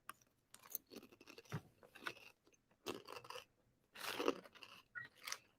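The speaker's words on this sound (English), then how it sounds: "Can y'all hear me crunching?" Crunchy chewing close to the mic, with bursts of crisp biting and grinding in uneven clusters between quiet pauses, fairly faint overall, with no talking.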